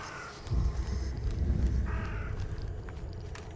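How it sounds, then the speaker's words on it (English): Crows caw in the video game The Sinking City, two short harsh calls a couple of seconds apart over a low, rumbling ambient bed. "Birds."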